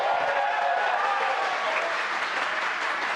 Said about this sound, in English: You can hear cheering here at SpaceX headquarters